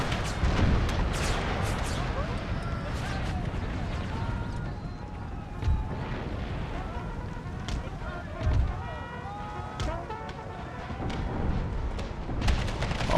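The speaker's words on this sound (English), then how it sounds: "Let's try out percussive shells." Artillery firing percussive shells at the Battle of Gettysburg in a Civil War strategy video game: repeated booms and crackling shots over a dense, steady din of battle.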